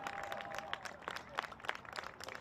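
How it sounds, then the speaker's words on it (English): A soccer team bench applauding at halftime of a West Region final, brief scattered clapping from a small group, fairly faint and a little distant. "The Bellevue bench applauding their starters"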